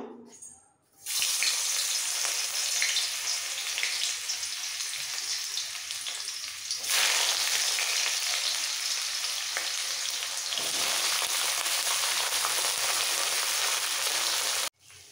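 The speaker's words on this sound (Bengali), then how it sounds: "এর মধ্যে দিয়ে দেবো এবার বাকি কেটে রাখা উচ্ছেগুলো ভাজার জন্য" Bitter gourd slices drop into smoking-hot oil for a mung dal dish, setting off a loud, continuous crackling sizzle that flares again midway and holds until a sudden stop near the end.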